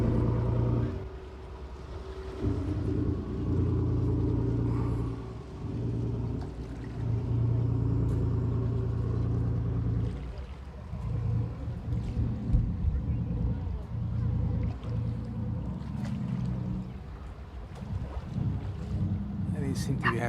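Boats cruise on the water during a summer festival week in the Azores, engine hum and wind noise running steadily while people talk nearby.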